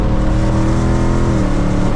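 The engine of a 2024 Mustang GT with a Whipple supercharger roars up close, its pitch climbing and then settling as it shifts up a gear, loud and continuous without speech.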